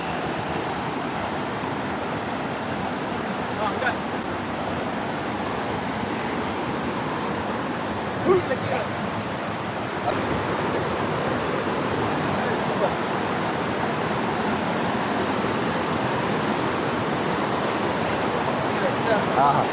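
Waterfall at Munnar pouring steadily, a dense continuous rush of water holding an even level throughout, close by and loud, with no voices over it.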